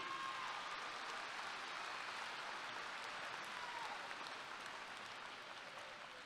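Sustained applause from a large audience at a 2023 Sachse High School graduation ceremony, dense even clapping that carries on throughout and fades slightly toward the end, heard from a distance.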